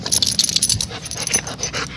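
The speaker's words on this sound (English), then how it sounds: "You're a big doggy." A big dog pants heavily and rapidly up close in a backyard, quick breathy huffs running steadily throughout with a faint whimper mixed in.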